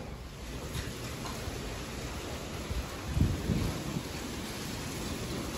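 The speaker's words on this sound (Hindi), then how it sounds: "तूफान आ गया, एकदम तूफान आ गया।" An outdoor storm with steady hissing rain and a low rumble of thunder swelling near the middle, heard with no voices.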